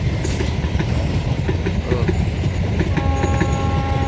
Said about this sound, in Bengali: কত কাছে এসে কিন্তু ট্রেনটা দেখা পাওয়া গেল